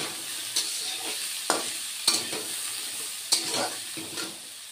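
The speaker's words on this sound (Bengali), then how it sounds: "ডাটাগুলি মিনিট 2 আমি ভেজে নিব।" Vegetable stalks stir-fried with turmeric in a pan make a constant close sizzle, with sharp scraping strokes every second or so as they are turned.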